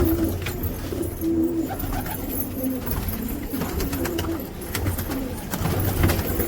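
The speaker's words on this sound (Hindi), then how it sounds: "बहुत कबूतर है।" Pigeons coo repeatedly in low, rolling calls, several birds overlapping in a steady chorus with a busy ambient background.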